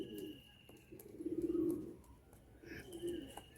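Andhra, Madrasi and Giribaz pigeons cooing in a home loft, with three distinct swelling bursts of throaty coos, close by, separated by brief quieter gaps.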